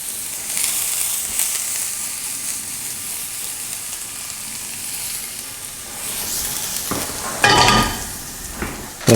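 Shallot frying in butter in a hot pan, a steady close sizzle that swells into louder bursts of crackling and stirring toward the end, with no voices.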